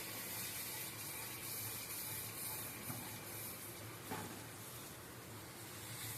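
Water pours and hisses steadily into a hot pan of cooked masala for a dhaba-style chavanu curry, a continuous faint rushing spray with a couple of soft clinks.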